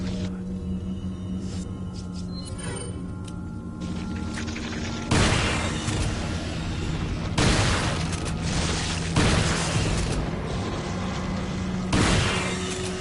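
Shotgun blasts in Resident Evil 4, loud and booming, several spaced heavy shots with ringing tails over a low ambient hum.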